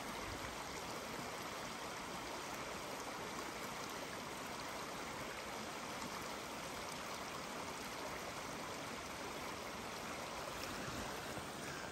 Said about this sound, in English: Down here a little bit, there's our Spring Creek.